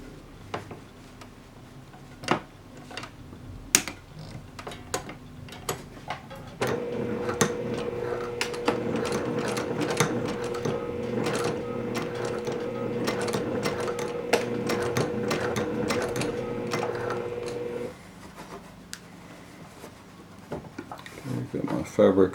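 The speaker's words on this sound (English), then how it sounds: "Now this time we're going to sew it with the curving seam down" A sewing machine stitches a curved seam on a Village Courier Bag, running steadily for about eleven seconds at close range, with scattered clicks and handling noises before and after.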